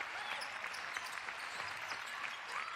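Sustained arena crowd applause at a Finland v Slovenia women's EuroBasket qualifier basketball game, continuous and even throughout with faint cheering mixed in.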